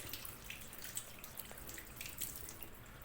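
Running tap water splashing steadily over hands at a sink, with scattered drip-like spatters through the continuous wet hiss; close and moderately quiet, no talking.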